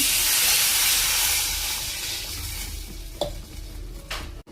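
Water poured into a hot pan for a fasting bagar dish bursts into a loud, hissing sizzle that gradually fades, followed by a couple of sharp metallic clinks.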